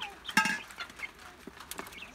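Young chicks in a chicken tractor on pasture give soft, scattered clucks and peeps, one brief louder call near the start, against a quiet outdoor background.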